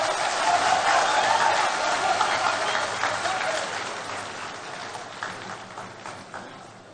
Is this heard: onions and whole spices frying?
no